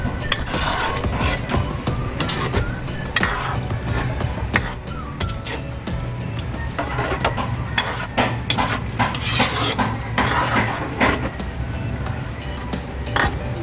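Coconut-milk vegetable stew being stirred in a pot as it comes to a boil, with steady scraping and clinking of a spoon against the pot over a constant low background hum.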